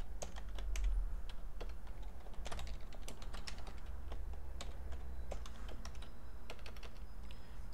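Computer keyboard typing while writing basic HTML code, a steady run of close, crisp key clicks with short pauses between bursts and no talking.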